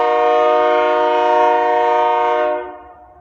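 A loud, sustained train horn blares for a couple of seconds over a rumbling rail passing, then cuts off as the rumble fades.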